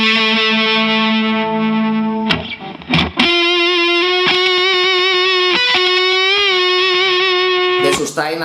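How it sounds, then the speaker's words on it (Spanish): A 1994 Fender Strat Deluxe Plus electric guitar with a new neck, played on bridge and middle pickups together through amp distortion, rings out in loud sustained overdriven notes, with a few choppy attacks before settling into one long held tone. "Esto es la distorsión del ampli"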